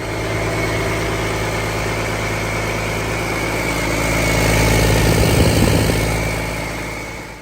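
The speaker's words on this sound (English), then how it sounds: "The Cummins N14 was the last of the great mechanical Cummins engines, a 14-liter inline-six" A Cummins N14 diesel, a 14-liter mechanical inline-six, runs steadily at a loud, even idle with a constant low rumble that swells slightly for a few seconds near the end.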